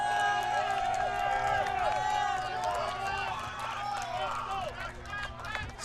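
Spectators cheering at a college club rugby match between Texas and Notre Dame, an excited crowd roar with scattered whoops and shouts, while a commentator talks over it.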